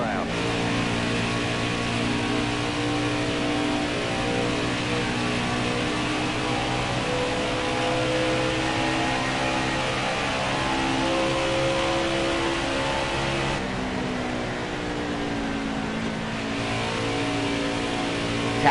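Racing truck engine at Homestead in a PS4 racing game: a continuous mid-pitched engine roar with shifting revs, easing off near the end as the truck slows, running steadily throughout.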